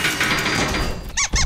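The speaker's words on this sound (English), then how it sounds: "Let's close the cage door before Pippin escapes again." A cartoon cage door squeaks shut in two quick, high, sliding squeals near the end, following a dense, bright bed of music and effects.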